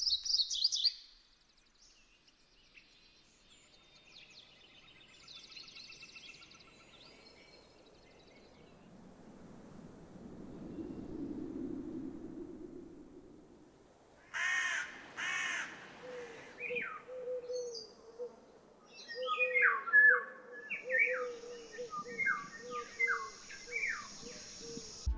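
Minecraft biome ambience from the Ambient Sounds mod: a faint, quiet stretch with a soft low rumble, then crows cawing and small birds chirping in a busy, layered outdoor soundscape that grows louder toward the end.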